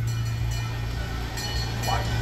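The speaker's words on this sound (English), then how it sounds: "And we see that train again." A small amusement park train rolling past at a Jersey Shore boardwalk park: a low, steady rumble with faint clatter, moderately loud, under general outdoor ambience.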